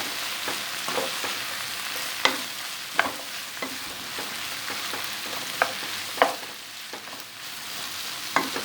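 Salted meat stew with cumin fries in oil in a pan and sizzles steadily at close range. A spoon gives irregular clinks and scrapes against the pan as it stirs, and no one talks.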